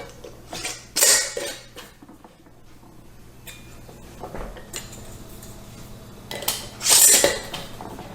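Metal lids and screw rings are fitted onto glass canning jars for ham and beans, with two loud clattering bursts separated by quieter handling clicks and taps close by.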